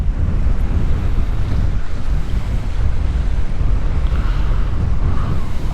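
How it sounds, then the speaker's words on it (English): Sea waves surge and splash against a WW2 concrete gun placement on the Suffolk coast at Bawdsey, a loud, continuous roar of surf mixed with heavy wind buffeting the microphone. "Let's get another big splash."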